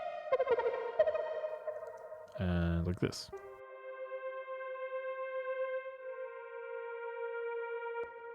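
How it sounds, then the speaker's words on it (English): Arturia MiniFreak hardware synthesizer sustaining a bright pad chord with rich steady harmonics, moderately loud, after a short spoken phrase and a brief noisy burst near the middle. "a hardware synth, and they sound like this."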